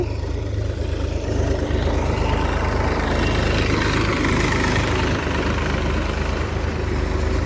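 A tractor engine runs at a steady idle nearby in a papaya orchard, a loud, low, continuous rumble that holds unchanged from start to finish.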